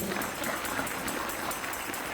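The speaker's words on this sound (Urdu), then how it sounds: "خدا کے لیے پہلے زوردار تالیاں بجائیے." A church congregation at an FGA Church Sunday worship service claps loudly together, a steady wash of applause filling the room without pause.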